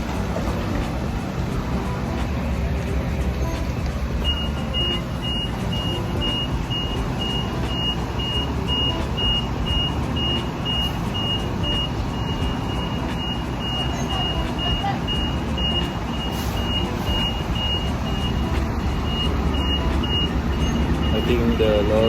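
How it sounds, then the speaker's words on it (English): A truck reverses slowly toward a shelter in Jurong West, its reversing alarm sounding a steady run of evenly spaced high beeps over a loud, constant engine rumble. "the truck driver is trying his best not to hit the shelter, and there's someone guiding him"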